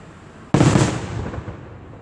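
A single firework at an Independence Day show in Downingtown bursts with a sudden loud boom, then rumbles and crackles as it fades over about a second and a half.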